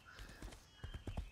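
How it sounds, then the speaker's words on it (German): Horse hooves clip-clop steadily in the game Age of Wulin, a rhythmic run of close, soft hoofbeats over a faint background tone, with no talk. "hier ist mein Pferd. So, und reiten."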